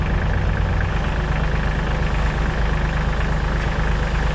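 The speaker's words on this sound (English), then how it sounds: "you're listening to the tractor, not the truck right now" A tractor engine runs steadily nearby, a loud, even low-pitched rumble idling without change throughout.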